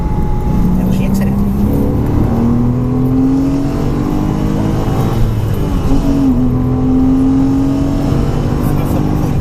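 A Porsche Cayman S accelerates hard on the Mettet race track, its engine note climbing loud and close through the gears, with a voice speaking over the steady roar.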